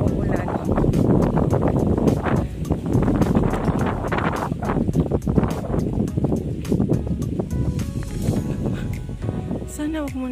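Gusty wind roars constantly across the microphone outdoors, loud and rumbling with rustling bursts throughout.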